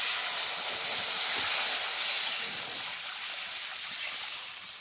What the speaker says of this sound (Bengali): এবার দিয়ে দিচ্ছি ঝোলের জন্য জল